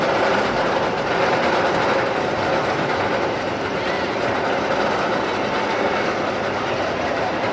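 A roller coaster train on polyurethane wheels runs steadily and loudly, giving a continuous rolling roar with faint clattering texture that stays at an even level throughout, with no speech over it.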